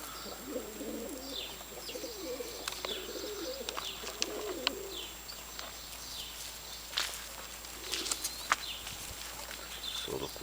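Home pigeons cooing softly in a backyard loft, low throaty coos near the start and again later, with scattered chirps and light footsteps in a quiet outdoor setting.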